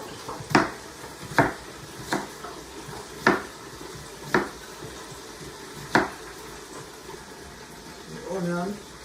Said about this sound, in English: Cutting up some more onion.